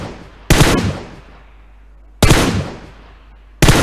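Three loud, sharp gunshots from PUBG on the Erangel map, spaced well apart, each a hard broadband crack followed by a long fading echo tail, with no talk.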